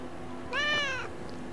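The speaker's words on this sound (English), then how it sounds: "Kitty cat." A single clear cat meow from the video game Morrowind, rising then falling over about half a second, heard close and alone against a quiet background hum.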